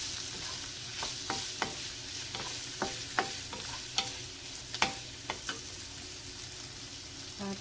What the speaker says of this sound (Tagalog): Lagay natin yung pork na buto-buto na pinalambot na ni Popsy